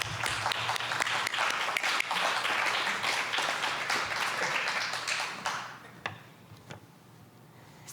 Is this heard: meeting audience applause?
yes